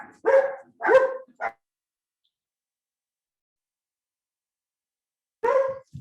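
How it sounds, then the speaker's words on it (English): Several dogs bark at someone at the door of a home: three quick barks close together, a few seconds of silence, then another bark at the end, loud and near with no talk. "I'm gonna let you know my dogs are gonna bark here in a minute because I'm getting someone at the door here."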